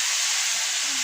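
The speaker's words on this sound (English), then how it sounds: "Turn the heat up and start frying the apples." Apples frying in butter in a cast iron skillet over high heat give a steady, bright sizzle, brief and even, with no talk.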